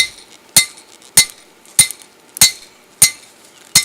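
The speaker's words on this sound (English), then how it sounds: "Now I'm hammering again." Hot steel is hammered on an anvil while a knife-axe is forged, six sharp ringing blows landing at an even, unhurried pace, loud and close with quiet gaps between strikes.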